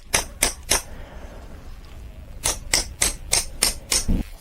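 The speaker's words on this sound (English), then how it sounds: "we can confidently take the hammer and drive our nail in here." A nail being driven in with a hammer during a winter fishing craft build: three sharp metallic strikes, a pause, then a quicker run of six blows, close and loud with no talking.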